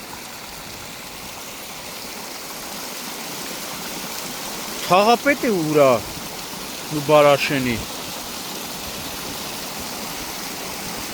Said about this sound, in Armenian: խմելու ջուրը սենց գնում է կորում է